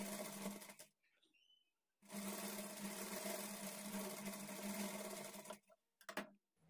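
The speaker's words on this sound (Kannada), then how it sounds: "ಈಗ ಆರ್ಮೋಲ್ ಡಾಟ್ ಸ್ಟಿಚ್ ಮಾಡ್ಕೊಳ್ಬೇಕು." A sewing machine stitches darts at a blouse armhole, two steady runs of close, even whirring, a short one then a long one, with a quiet gap between and a few brief stops at the end.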